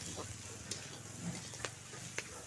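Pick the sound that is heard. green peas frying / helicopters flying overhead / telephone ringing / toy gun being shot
green peas frying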